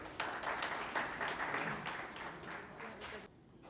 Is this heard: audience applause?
yes